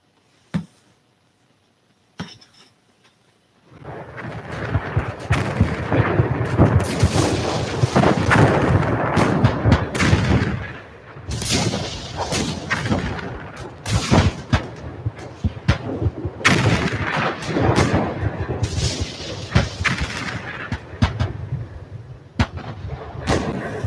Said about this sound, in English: the actual sound of the guns falling silent at 11 a.m. exactly as it would have been